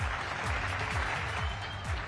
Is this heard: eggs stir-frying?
no